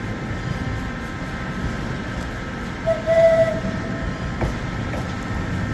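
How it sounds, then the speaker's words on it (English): West Midlands Railway class 730 electric train sounds a single brief horn tone as it pulls into Birmingham New Street, heard over steady station rumble and background train noise. "Giving a tone there as it came in."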